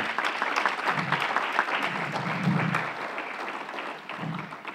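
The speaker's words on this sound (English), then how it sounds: "How about a round of applause for" A breakfast audience at a chamber of commerce event applauds the chamber ambassadors, a moderately loud wash of many hands clapping that tapers slightly toward the end.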